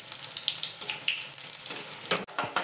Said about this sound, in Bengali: মোটামুটি একটা পাট বড়া ভাজা হয়ে গেল